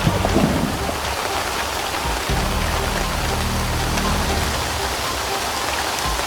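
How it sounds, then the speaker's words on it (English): Heavy rain pours down in a storm, a dense continuous hiss of drops with low rumbling underneath, loud and close, steady throughout with no talk. "Shoot, the rain is coming down out here."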